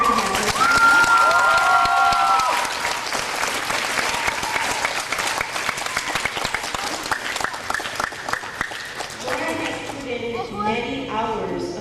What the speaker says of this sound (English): so I'd like to clap for her